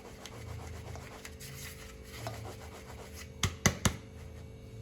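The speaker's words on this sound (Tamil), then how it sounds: "மாவு ஜல்லடியில் ஜலிச்சு எடுத்துக்கலாம்." Ground rice flour being sifted through a sieve for poorana kozhukattai, a soft continuous close rubbing and shaking, ending with three sharp taps against the sieve rim.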